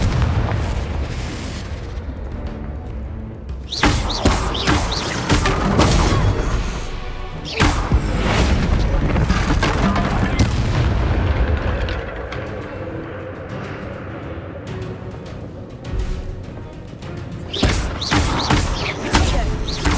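Hogwarts Legacy blasting spells, Confringo and Bombarda, explode in heavy booming bursts, with loud crashes and thuds in several clusters and brief quieter gaps between them.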